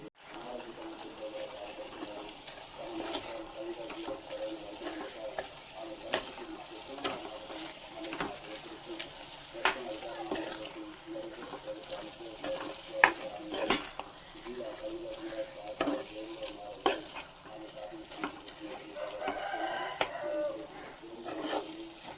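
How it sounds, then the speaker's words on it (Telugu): Coconut chili powder (kobbari karam) is stirred in a pan, with a spatula scraping and clinking in irregular strokes over a soft sizzle, fairly close and steady throughout. "దీన్ని బాగా శుభ్రంగా కలిగి తిప్పుతాం ఫ్రెండ్స్."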